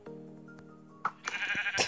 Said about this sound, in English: these sheep always seem to want to get in.